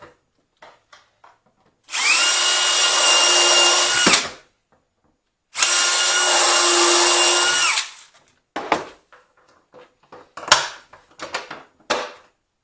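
A power drill bores bolt holes, giving two loud, steady whirring bursts of about two seconds each, followed by scattered clanks and knocks as parts and bolts are handled close by.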